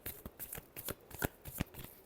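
Tarot cards are shuffled by hand in a quick series of soft riffling flicks, close and quiet, with no talking.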